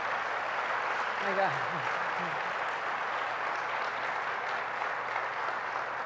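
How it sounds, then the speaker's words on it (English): Audience applause at a formal government event for the CHIPS and Science Act, a steady, fairly soft wash of clapping throughout, with a brief voice exclamation early on. "I want to give a round of applause"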